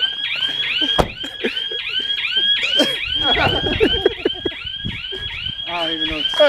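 A repeating electronic alarm whoops in a steady rising pattern, loud and continuous, while people talk over it.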